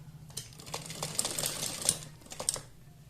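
A sewing machine stitching a band onto the pleats of a puff sleeve, a quiet rapid mechanical whirring with needle ticks in short uneven runs, close by and alone.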